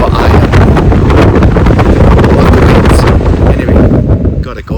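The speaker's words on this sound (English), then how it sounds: "The wind's getting worse." Strong wind blows on a mountain hiking trail on the Great Divide Trail, roaring and buffeting the microphone loudly and steadily throughout, with no talk.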